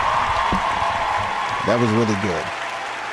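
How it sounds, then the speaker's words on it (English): An audience applauds with a steady wash of clapping that runs under a voice as he speaks briefly over it. "give him a round of applause for that one"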